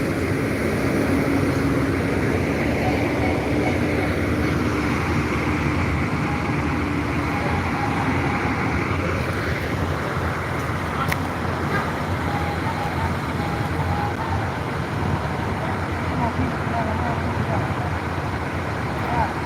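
Bus pulling out of Solo's Tirtonadi terminal, bound for West Sumatra: a continuous loud engine and roadway rumble, close by and steady throughout, with a voice talking over it.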